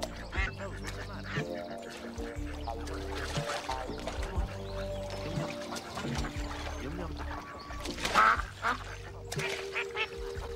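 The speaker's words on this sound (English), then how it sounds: "these two wild ducks landed on my pool" Two wild ducks that have landed on a backyard swimming pool quack among other layered sounds, with a tonal musical bed underneath and a brief louder burst of calls near the end.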